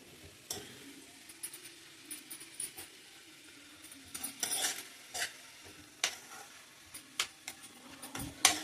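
Amaranth leaves stir-fried in a pan for a Guntur-style thotakura fry, giving soft, steady sizzling broken by scattered clicks and scrapes of a spatula against the pan, with no talking.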